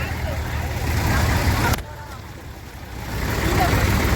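A lorry passes on a flooded Vijayawada street, a broad rumbling engine and road noise building up, dropping away briefly, then swelling again; voices are heard around it.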